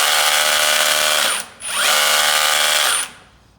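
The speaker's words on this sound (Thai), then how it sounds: "เจาะกระแทกค้อนนะครับ" A Kress KU390 cordless 20V rotary hammer drill runs at full speed in hammer mode with a loud, high-pitched whir, stops briefly, then revs up again and winds down.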